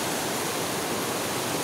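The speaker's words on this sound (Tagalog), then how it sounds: "lakas ng tubig oh" Strong river water rushes in a dense, continuous roar, loud and close with no voices.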